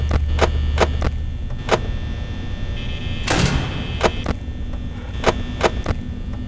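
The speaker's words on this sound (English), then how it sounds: "Both doors are closed." Security doors in the office of the Five Nights at Freddy's video game slam shut: sharp repeated metallic clicks and thunks, with one heavier broadband clang midway, over a steady low electrical hum.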